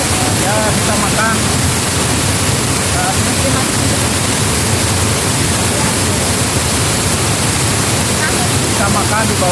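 A waterfall roars as constant, dense rushing water at a campsite where fish is grilled, a loud unbroken wash with faint bird chirps over it and voices talking underneath.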